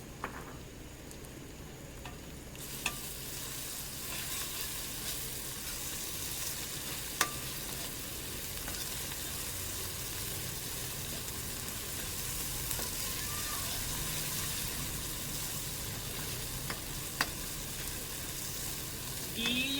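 A garlic, ginger and coriander paste fries in a pan with a steady, moderate sizzle that holds throughout, with a few faint clicks and taps.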